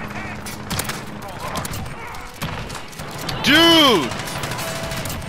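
Shotgun blasts in a Modern Warfare match fire amid game noise, with an excited voice shouting over the action and a loud rising sweep near the end.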